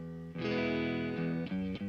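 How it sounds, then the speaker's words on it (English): Guitar played through a Headrush Prime distortion effect: a sustained, heavily driven chord rings loudly for over a second, followed by a few shorter, choppy chord hits with no talking. "see if it has a little distortion to it"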